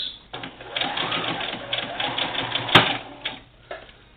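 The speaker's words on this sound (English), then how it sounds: "I'm going to go forward, and I'm going to stitch that all the way" A sewing machine stitches a quilt border with mitered corners, running in a fast, steady whir close up for about three seconds, then slowing, with one sharp click and a short final burst.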